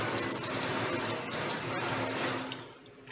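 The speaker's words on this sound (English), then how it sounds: "keep the water running down my fingertips." Steady running water from a sink tap during a surgical hand scrub, a continuous broadband hiss and splash that stays close and fairly even throughout, easing slightly near the end, with no talking.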